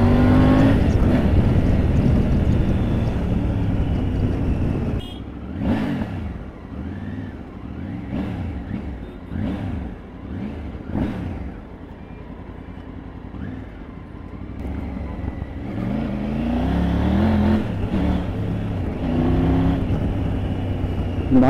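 A Triumph Tiger 900 GT adventure motorcycle engine runs close by in a steady idle rumble. A few revs swell and fade across the stretch, and the engine surges louder again near the end.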